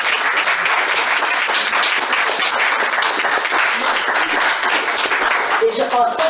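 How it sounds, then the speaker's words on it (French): Sustained audience applause at a Québec cultural talk show, steady clapping filling the room from start to finish with faint voices mixed in. "Une main d'applaudissement de Claudine"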